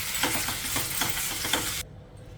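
Grated raw mango is stirred in a hot pan over a medium flame, a steady close sizzle broken by rhythmic scraping strokes that stops abruptly near the end.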